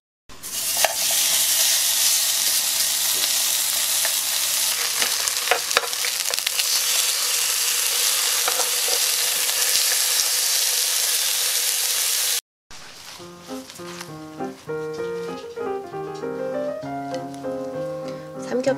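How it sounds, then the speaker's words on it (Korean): Pork belly grills in a pan, giving off a loud, steady, close sizzle with faint crackles for most of the stretch, then music takes over. "삼겹살을 한쪽에 이렇게 구워주었고요"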